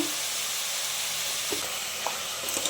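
Rice frying in oil in a pan, a steady broadband sizzle running throughout with a few brief clinks or stirs near the end, no voices.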